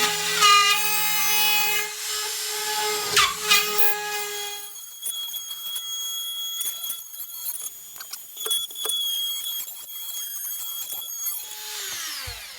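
Ryobi 18V Speed Saw rotary cutter, a cordless tool, cutting through drywall: a loud high whine with strong tones for several seconds, then rougher scraping and grinding bursts as the bit works through the board, ending in a falling spin-down.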